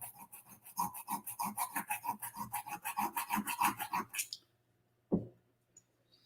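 Needle file rasping back and forth on a T-800 model part in quick, steady close strokes for about four seconds, then stopping, followed by a single sharp knock and quiet.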